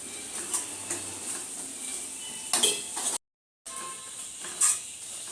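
Whole spices such as cloves, cinnamon, coriander seeds, poppy seeds and cardamom fry in a pan for an Andhra-style pomfret fish curry. A constant soft sizzle carries a few sharp metallic clinks, with a brief silent gap.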